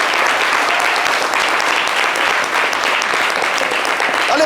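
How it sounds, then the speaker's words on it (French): Loud, sustained applause from a studio audience thanking participants on a live French talk show, dense even clapping filling the whole stretch with no speech. "Merci d'applaudir tous ceux qui ont pris le soin de participer."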